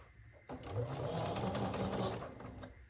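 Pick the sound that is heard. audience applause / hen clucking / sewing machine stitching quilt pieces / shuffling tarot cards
sewing machine stitching quilt pieces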